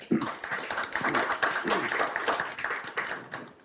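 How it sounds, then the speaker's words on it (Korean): An audience claps together in a dense, lively burst of applause that holds steady throughout, with no pauses. "박수로 맞아주시기 바랍니다"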